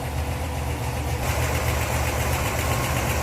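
A 1967 Pontiac Firebird convertible's 350 V8 idles with a steady, mild rumble through a stock-sounding exhaust, heard close and continuous for a few seconds with no voices.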